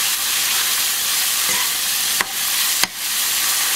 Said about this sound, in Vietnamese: khi mình xào thì mình dầm cho nó nhuyễn ra nha các bạn